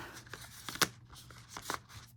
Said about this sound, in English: So this is basically, you know, your casino method of shuffling.